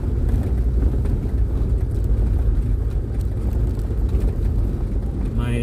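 A vehicle plunges through deep, muddy puddles on a rural road in Atimonan, Quezon, giving a steady, loud low-frequency rumble of engine and churning water with wind buffeting the microphone throughout.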